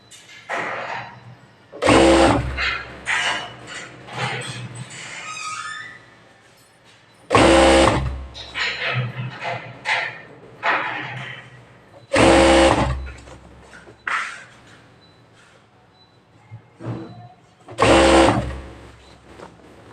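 A sewing machine stitches near a rubber strip in four separate loud mechanical bursts a few seconds apart, with a person speaking in the quieter gaps between runs.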